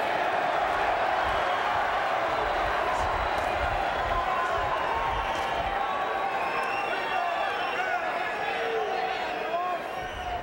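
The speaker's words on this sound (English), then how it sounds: "Now the crowd with the chant of Kenny, Kenny, for their man Kenny Keane." Dense roar of a boxing crowd in an arena chanting for Irish fighter Kenny Keane, a loud continuous wash of voices under a commentator's speech.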